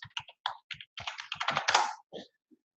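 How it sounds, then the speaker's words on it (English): Fingers tap out a short burst of keystrokes on a computer keyboard, starting as separate clicks and quickening into a rapid run, close and clear in a quiet room. "I'm just going to type in a travel company I know."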